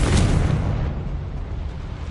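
A Confringo fire spell blast from Hogwarts Legacy, a loud, close burst with a booming, explosive onset that rolls off into a rumbling, fading tail.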